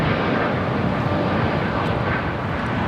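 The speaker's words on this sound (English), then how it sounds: "This is American Airlines" American Airlines Boeing 787-8 Dreamliner taking off from runway 24 right at LAX, a loud, steady broadband jet roar filling the whole stretch without pause.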